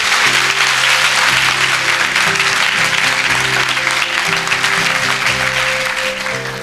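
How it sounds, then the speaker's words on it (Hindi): A church congregation claps together in sustained, dense applause at a worship service, loud and steady throughout with no clear gaps, and a faint low musical hum underneath. "आइए प्रभु के लिए अच्छी ताली बजाएंगे"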